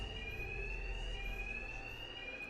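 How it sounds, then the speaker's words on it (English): A continuous high-pitched electronic alarm rings without pause in Batman: Arkham Knight, steady and fairly loud over a low rumbling background, with no voices present. "these thugs can't hear a thing over the alarms."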